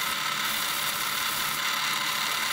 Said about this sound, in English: Getting rid of the threads on the lathe